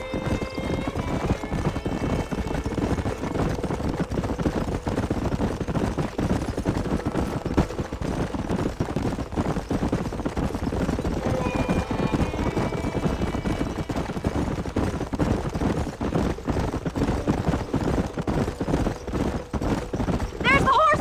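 Horses galloping in the Western video game Red Dead Redemption, a rapid, continuous drumming of hooves with occasional whinnies, while people talk over it.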